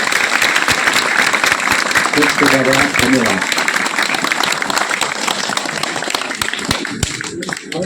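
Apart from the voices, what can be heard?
audience clapping applause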